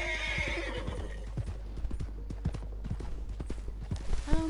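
Video game horse gives a clear whinny, followed by a string of clip-clop hoof steps and soft thuds at moderate level, with faint background music.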